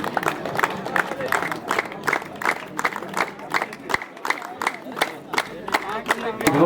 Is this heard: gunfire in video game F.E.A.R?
no